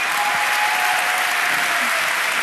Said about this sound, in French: On l'applaudit encore une fois, Martin.